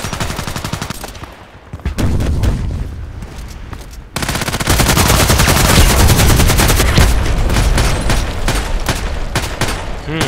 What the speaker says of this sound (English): I ran into the mortar strike